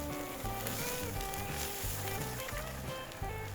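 Prime rib searing over hot coals on a Weber kettle grill, giving a steady close sizzle throughout with low rumbling tones running beneath it.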